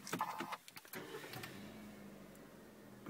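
A Kia Picanto's engine is started with a start-stop button inside the cabin: a few clicks and whirring cranking, then the engine catches into a quiet, steady idle hum.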